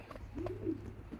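A young pigeon gives a soft, low cooing call, two or three gentle coos in the middle of the clip over a steady outdoor hum, fairly close.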